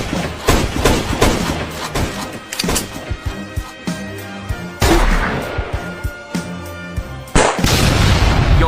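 Animated war battle gunfire: loud, rapid bursts of shots and booming blasts crowd together, with brief gaps between volleys and heavy impacts near the end.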